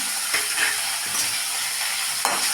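Green chili, tomato, onion and curry leaves sautéing in a pan, giving a steady close sizzle and hiss with a few soft stirring scrapes and clacks.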